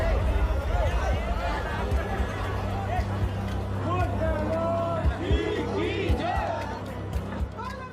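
A large crowd packs the rooftops at the Holi festival in India, a dense babble of many voices with shouts and scattered calls rising over a steady low hum.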